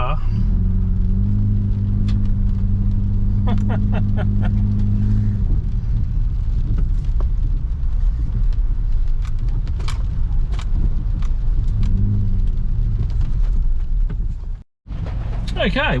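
An off-road car drives through deep water, a continuous low engine rumble with sloshing and splashing washing over it throughout, briefly cutting out near the end.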